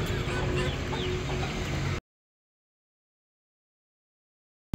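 Hens clucking inside a newly built chicken house, a steady close chorus of clucks for about two seconds before the sound abruptly cuts to silence.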